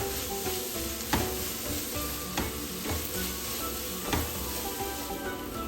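Onions for a chicken momo filling sizzle steadily in a pan as they cook down, with faint occasional clicks of a spoon against the pan.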